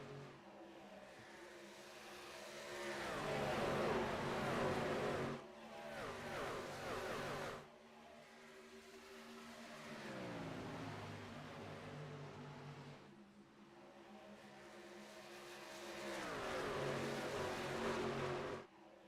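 NASCAR Truck Series race trucks race at Charlotte Motor Speedway, roaring past in repeated waves that swell and fade as each pack passes, loud revving engines with no voices over them.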